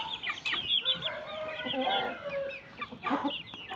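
Young roosters, sons of a chestnut hen, cluck and squawk close by in a farm yard, a busy overlapping run of harsh calls and short crowing attempts with faint background noise.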